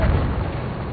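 Enemy artillery barrage in Battlefield 1 trench combat: a loud, deep, rumbling boom that fills a brief moment.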